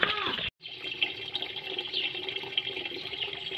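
Tap water runs steadily into a pot or sink while fresh garden fern is prepared for boiling, close and continuous with a brief cut near the start.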